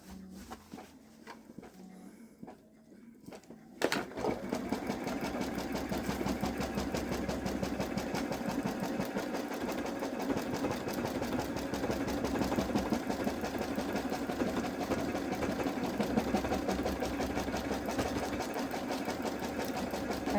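A Babylock Solaris embroidery machine stitching the tack-down placement line for an appliqué bow on a sweatshirt starts up after a few seconds of quiet handling, then runs with a steady, fast, loud mechanical whir and rhythmic needle clatter.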